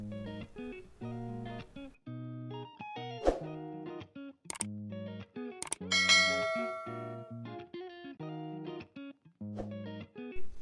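Bright bell dings ring over a melodic chiming jingle, with several sharp metallic strikes punctuating a steady run of tonal notes.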